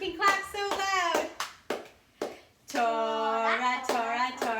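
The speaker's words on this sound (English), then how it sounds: "And who can clap so loud?" Children clap their hands in a scattered series of sharp claps during a preschool circle time, mixed with bursts of children's and adult singing voices.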